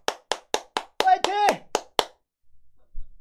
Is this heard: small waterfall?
no